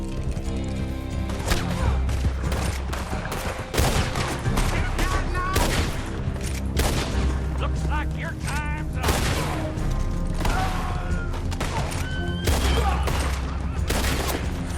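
Gunfire crackles through a Red Dead Online Blood Money mission, with rapid overlapping shots and bursts over a busy game soundtrack, along with clopping hooves and players talking over the action.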